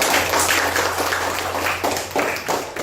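Classroom students clapping hands together for a classmate, a brisk, dense burst of applause that swells and dips, fairly loud and close, with a few voices mixed in.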